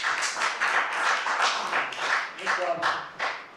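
City council meeting audience clapping in short uneven bursts, moderately loud and a little distant, with a voice speaking over it.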